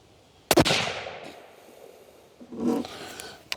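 A Savage Impulse Driven Hunter rifle fires one sharp, loud report with a long fading echo, then a second crack begins right at the end.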